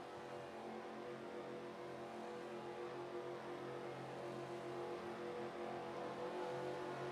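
Race cars in an iRacing Daytona sim race, a dense field of engines droning and climbing through the gears together, a steady loud roar throughout with no pauses.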